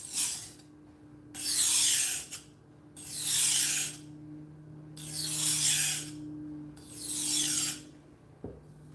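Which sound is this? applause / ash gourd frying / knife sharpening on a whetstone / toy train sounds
knife sharpening on a whetstone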